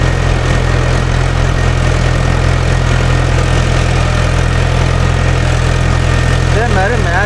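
A Mahindra Yuvo Tech Plus tractor pulling a nine-point spring cultivator runs as a loud, steady diesel drone that never lets up. A voice is faintly present beneath the engine noise.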